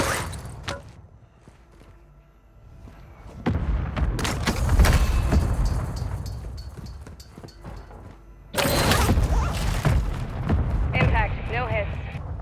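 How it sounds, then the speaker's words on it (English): Mortar strike explosions in a video game, heavy booming bursts arriving in two loud waves with rumbling tails, over game voice callouts and background noise. "Mortar strike on the way."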